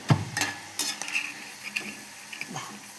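Masala chickpeas frying in a pan as the last batch is scooped out, with intermittent clinks and scrapes of a utensil against the pan over a soft background sizzle, no voices.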